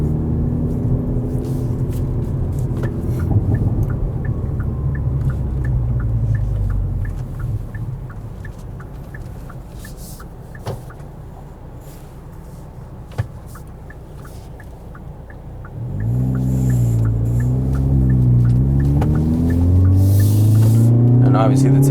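A 2022 Hyundai Veloster N engine rumbles loudly from inside the moving car, dropping to a quieter drone midway before surging again with rising, revving pitch sweeps as it accelerates.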